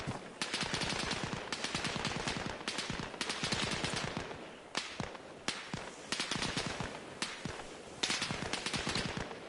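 Machine gun fire in the combat video game Arma Reforger: repeated rapid bursts of loud automatic shots with short pauses between them, continuing for several seconds.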